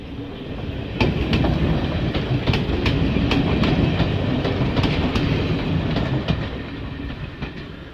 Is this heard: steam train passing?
yes